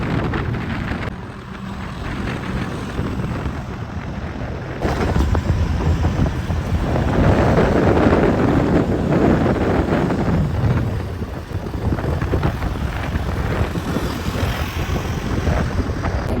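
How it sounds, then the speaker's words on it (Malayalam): Strong gusty wind roars steadily outdoors on a road trip between Thrissur and Kottayam as light rain begins to fall, buffeting the microphone loudly and continuously throughout with a surge midway, no voices. "പിന്നെ നല്ല കാറ്റും ഉണ്ട്."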